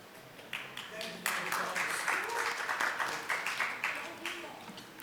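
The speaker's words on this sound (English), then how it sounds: "a lot of you may be clapping" Audience clapping at a vegan talk in New York, a dense patter of many hands that swells after a quiet start and holds steady, with a voice faintly under it.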